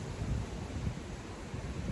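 Wind gusting outdoors beside water, buffeting the microphone in a low steady rumble with soft fluctuations.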